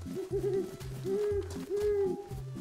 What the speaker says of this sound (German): Uhu, das höre ich doch genau raus